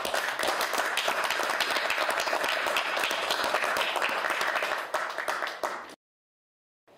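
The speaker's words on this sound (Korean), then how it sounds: "힘내시라고 박수 한번 드립니다." Attendees at a political party leadership meeting give a round of brisk, crowded applause that runs steadily for about six seconds, thins briefly, then cuts off into silence.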